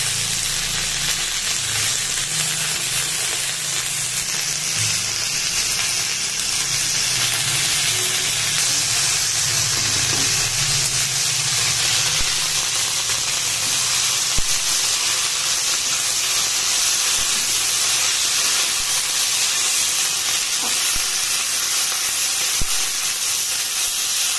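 Leafy greens steaming and sizzling in a hot pan, a loud, close, continuous hiss with a low rumble that fades early on, steady throughout with no talk.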